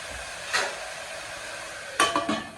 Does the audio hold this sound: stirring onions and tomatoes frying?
yes